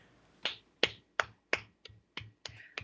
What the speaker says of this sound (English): I'm giving you a golf clap